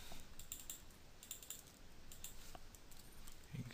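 Keys tapped on a computer keyboard in a steady, quiet run of light clicks, with a faint burst near the end.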